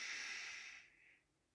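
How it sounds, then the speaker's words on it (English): One deep breath drawn in through the nose during yoga: a soft, close, airy hiss lasting just over a second and tapering off, heard alone. "take a deep breath in"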